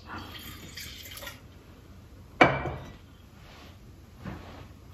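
Wine swirled in a glass, then poured away into a sink, gives a soft liquid slosh followed by a sharp splash and a brief trickle, close by and without talk.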